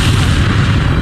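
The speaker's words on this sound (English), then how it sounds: "Another explosion blasts Jack out of the plane." A plane explodes during a runway collision, a single loud, heavy boom with a deep rumbling roar that fills the whole short moment.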